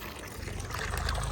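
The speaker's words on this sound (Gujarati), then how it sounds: "ચલો પાણી મૂકી દઈએ. આપણા તગારું ભરાઈ જાય." Water splashes and gushes steadily into a basin being filled as a drinking spot for birds. It is a brief, close, continuous pour that grows slightly louder.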